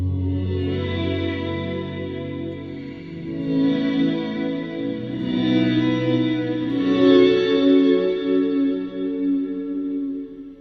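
A Walrus Audio Slöer stereo ambient reverb pedal in dream mode washes sustained chords into a lush, swelling wash of reverb that rises and falls over about ten seconds, with no talking.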